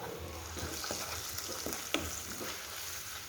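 Onion with ginger and garlic paste fries in a pan, a soft, steady sizzle broken by occasional stirs and one sharp tap of the utensil, quiet and close, with no voices.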